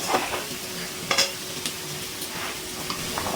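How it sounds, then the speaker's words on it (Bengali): Ginger, garlic, green chili and onion fry in a pan for fried rice, giving a steady close sizzle broken by a few sharp stirring scrapes of a spoon against the pan. "আদা, রসুন, কাঁচা লঙ্কা আর পেঁয়াজ একটু হালকা ভেজে নিয়েছি।"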